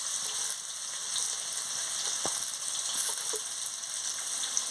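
Potatoes frying in oil for a katla fish curry, a steady close sizzle with faint scattered pops and one sharp tap partway through, no voices.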